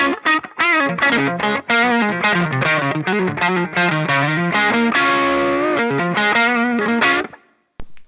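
Heavily distorted electric guitar through a ProCo Rat pedal plays a quick run of notes, then a sustained chord that cuts off abruptly.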